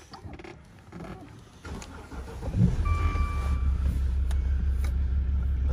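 A Maserati Ghibli 3.0 diesel fires up with a push-button start, a brief starter whir turning into a steady low diesel idle that holds on after the catch.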